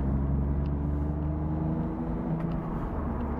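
Smart Brabus Roadster engine pulling hard through the gears from inside the car, a close, steady droning growl that holds throughout.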